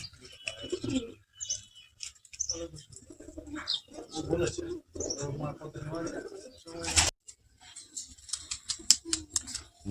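Pigeons in a loft coo softly in short, broken phrases, with someone talking over them close by and occasional sharp clicks and fluttering noises.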